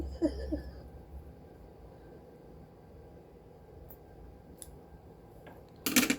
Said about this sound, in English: Busting out the tiny scissors.